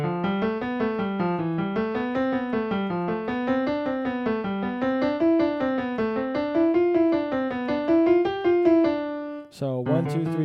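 A Hanon finger exercise played on piano, with steady running notes climbing and falling in repeating patterns, close and clear, before a brief pause and a new chord near the end.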